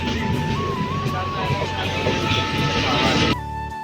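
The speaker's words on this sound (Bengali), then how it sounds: "ফাইনালি আমাদের ট্রেন ঢুকে গিয়েছে" A train pulls into a station, its continuous rumble and a steady tonal squeal carrying loudly before cutting off abruptly, with people talking nearby.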